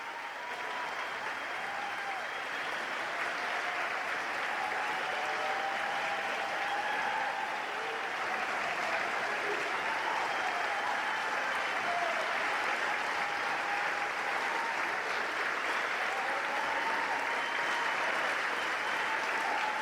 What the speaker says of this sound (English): would everyone please join me in a ruckus round of applause for our graduates?